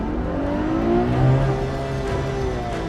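A Ferrari GTC4Lusso in sport mode and rear-wheel drive on Michelin PS4S tires is floored, its engine note climbing in rising harmonic sweeps, loud and close from inside the cabin, with no talk.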